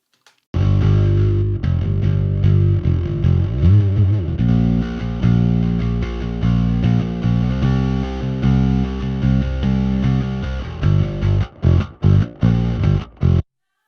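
Bass guitar run through a saturation plugin adding harmonic distortion and mid-range: a loud, thick, gritty bass line played for about eleven seconds, ending in a few short, punchy stabbed notes.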